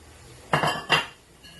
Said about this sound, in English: Again, mix it together.